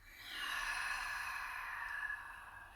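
A long, slow exhaled breath during a yoga session, a soft airy rush that rises, holds steady for about two seconds, then fades, close and quiet with no talking.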